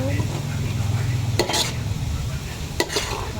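Chopped garlic fries in hot oil for a Thai chilli paste with pork cracklings, a constant close crackling sizzle broken twice by the sharp scrape of a utensil against the pan.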